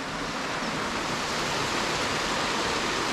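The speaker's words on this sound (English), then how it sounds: "And then there's a little waterfall down by there." Steady rushing water, a constant broadband splash and hiss like a small waterfall nearby, with no voices.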